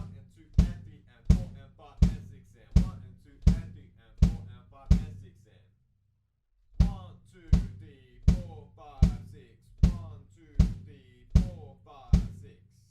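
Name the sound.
kick drums playing two against three in 6/8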